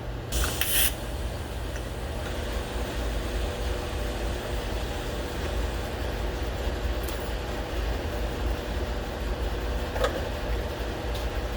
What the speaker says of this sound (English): I'm welding with the edge of a perforated core